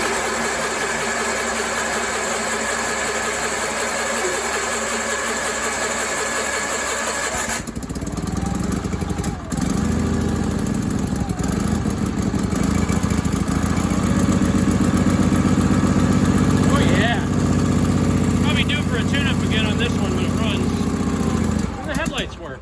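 An Onan engine on a Sears Suburban garden tractor, unrun for about two months, cranks and catches, then settles into a loud, steady idle with some unevenness, while people talk over it.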